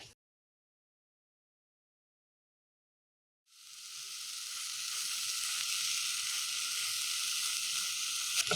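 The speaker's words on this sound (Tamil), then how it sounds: "இப்போ நம்ம அந்த பேட்டி போட்டோம் இல்லையா அது நல்லா க்ரில் ஆகிட்டுருக்கு" A lamb burger patty, smash-burger style, sizzles loudly on a hot grill, a steady bright frying hiss that starts abruptly after a silent pause and carries on alone without talk.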